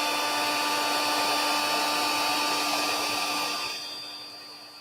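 A handheld craft heat tool blows steadily to warm a paper craft piece before die cutting, a loud continuous whooshing whir with a faint hum that softens and tapers off near the end.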